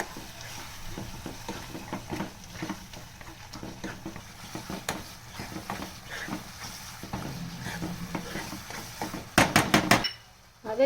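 Lahori-style paneer gravy with tomato, ketchup and cream gets stirred in a pan, with soft repeated scraping and light clinks of a spoon throughout, ending in a brief louder clatter.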